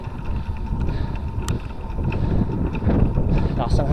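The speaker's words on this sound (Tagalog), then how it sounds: "Taas ng hangin." Strong wind buffeting the microphone as a cyclist rides into a headwind and crosswind, a loud steady broadband rush with gusts swelling toward the end.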